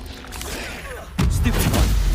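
A Confringo spell cast in Hogwarts Legacy lands with a sudden loud booming blast just past the midpoint, following a steadier stretch of game rumble and effects.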